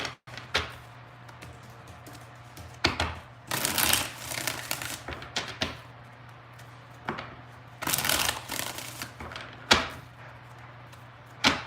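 Tarot cards being shuffled by hand, a few bursts of riffling and sliding cards separated by quieter taps and handling, close against a faint steady hum.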